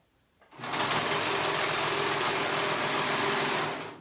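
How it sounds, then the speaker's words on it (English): A sewing machine stitches gathers on a romper, starting after a moment of quiet and then running at a fast, steady whir close by for about three seconds before easing off. "Go back and sew them on."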